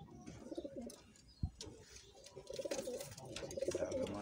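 Pigeons coo softly in a series of low, throaty calls, with a brief sharp knock partway through and quiet background noise around them.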